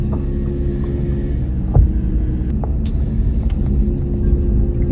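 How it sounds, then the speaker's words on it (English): A car passes near a farm, a steady low engine rumble and road hum holding throughout at even loudness, with no talk. "There are more cars coming."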